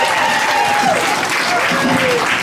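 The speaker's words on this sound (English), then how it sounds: "Round of applause." Comedy club audience applauding and cheering at a stand-up set, a dense, loud wash of clapping with voices mixed in throughout.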